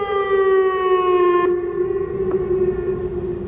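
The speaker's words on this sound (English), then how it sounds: "during the test, the sirens come on first" A civil defense siren wails during a test, a loud sustained tone falling slowly in pitch and holding steady across the whole stretch, with no voices.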